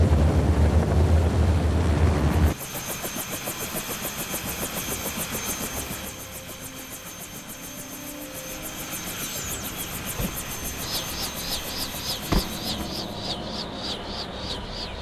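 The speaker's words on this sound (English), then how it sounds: "Engine running." A vehicle engine runs in the Jurassic Park video game, a steady mechanical drone with a high whine that starts abruptly after a louder opening, continuing at a constant level with fluttering, rhythmic tones near the end.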